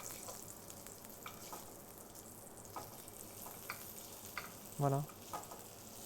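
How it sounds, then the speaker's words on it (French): Halved confit garlic reheating in a hot pan for a piperade egg dish, giving a soft, steady sizzle with light stirring and a brief louder clatter near the end; a short word is spoken. "je vais venir réchauffer mon ail qui a été confit"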